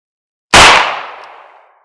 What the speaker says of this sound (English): going to be firing the first one from double action and the second 2 from single action